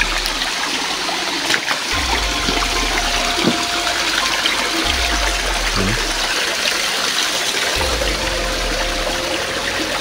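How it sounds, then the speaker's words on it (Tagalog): A small river flows through overgrown terrain, a loud continuous rush of water with low thumps of footsteps or splashes every few seconds. "So yung dinadaanan natin ngayon, isang maliit na ilog."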